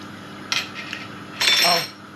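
A metal spoon scraping against a dish while mixing filling for a lemon meringue pie, a short scrape followed by a longer, louder one, close up with no talk.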